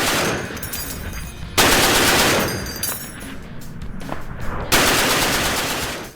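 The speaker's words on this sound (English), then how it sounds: "by Vasily Degtyarev in the Soviet Union, the DP-28 was meant to be a lightweight, reliable, and low-cost squad-level machine gun" A Soviet DP-28 light machine gun fires long, loud bursts of rapid automatic fire. The shots blur into a dense rattle that swells and fades over several seconds, with no talking.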